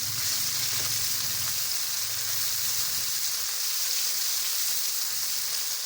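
Onions fry in hot oil for biryani with a loud, constant close-up sizzle, a dense hiss that stays even throughout.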